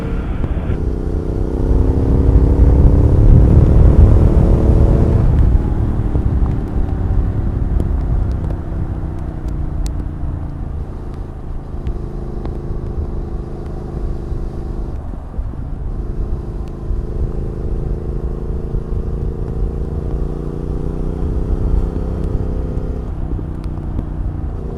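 A Triumph Speed Twin motorcycle engine rumbles loud and close as it is ridden, revving up hard at first, then settling into a steady droning cruise with small shifts in pitch.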